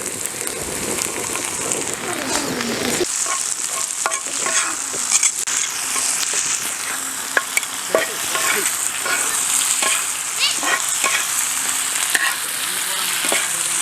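Tomatoes and green chillies sauté on a large tawa over mutton fry, making a dense continuous sizzle with frequent scraping and clicking of a spatula, all close and fairly loud.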